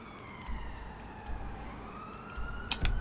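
A wailing siren rises and falls steadily in the distance, muffled as if heard from indoors near a hospital, with faint traffic rumble underneath.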